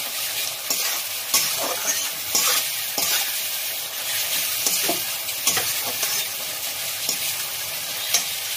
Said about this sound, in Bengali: মাংসটা এই মশলাটা কষে নেব